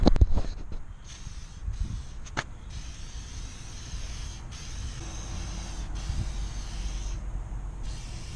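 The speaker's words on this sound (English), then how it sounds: "So we're gonna spray the WD-40 on the wheels" A steady hiss of WD-40 aerosol spray onto car wheels runs continuously after a few sharp clicks and knocks at the start, fairly close and even in level.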